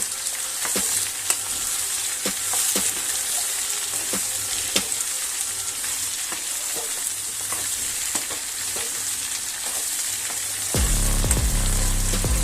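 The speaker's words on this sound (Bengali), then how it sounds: "এবার আমি একটু ঝিঙেগুলো আলুর সাথে ভেজে নেব।" Steady sizzling of ridge gourd and potatoes frying in a pan, with repeated scraping and stirring clicks throughout and a louder clatter near the end.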